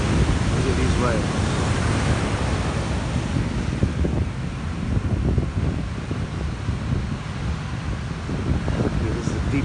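Ocean surf rolls in continuously with a loud, steady wash and wind rumble across the microphone, no clear pauses between waves.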